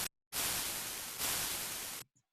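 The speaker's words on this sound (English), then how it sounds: "it almost sounds like a roar or a crash of white noise off to the right" A synthesized white noise crash layer for drums, made in Ableton, sounds as two broad, bright hissing bursts of noise, each about a second long and back to back, with brief silences before and after.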